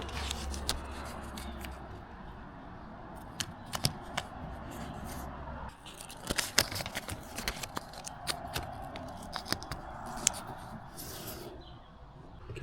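Masking tape is torn and pressed onto a 2015–2020 Ford F-150 near the wiper cowl, heard as close crackling rips and sticky peels with scattered taps and rustles, irregular and fairly quiet with no talk.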